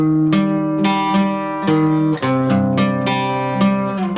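Acoustic guitar playing the final chorus of a song, with loud, ringing strummed chords struck in a steady rhythm, close and alone without speech.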